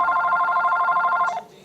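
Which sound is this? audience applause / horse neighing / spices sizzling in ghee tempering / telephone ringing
telephone ringing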